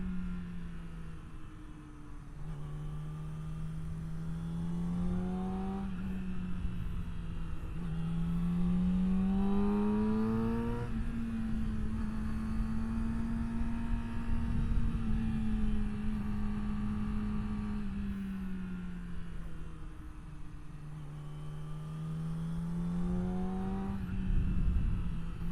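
A Yamaha R6 motorcycle riding through a canyon, its engine note climbing and falling steadily through gear changes and throttle swells, loud and continuous with wind rush throughout.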